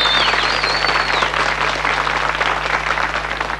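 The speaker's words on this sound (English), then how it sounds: "another round of applause" Applause for a band at a televised performance, steady and broadband throughout, with a faint whistle at the start and continuous clapping filling the room.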